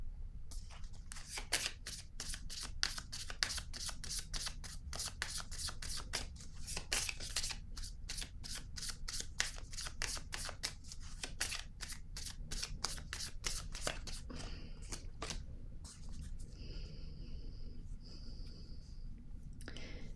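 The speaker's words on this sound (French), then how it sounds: "je vais piger une autre carte" Tarot cards being shuffled and drawn: a rapid, steady run of close papery riffling clicks fills almost the whole stretch, then thins near the end as a card is drawn amid faint soft tones.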